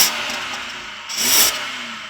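A 3.6-litre, 272-horsepower BMW V8 in an early-2000s luxury sedan revs up briefly twice over a steady idle, close and fairly loud. No talk is heard.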